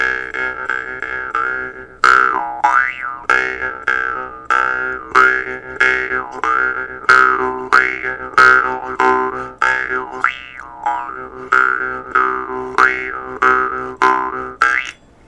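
A jaw harp with a Damascus steel frame twangs in a rapid rhythm of plucked, springy boings whose pitch wobbles and shifts as it is played, loud and close, with no voices.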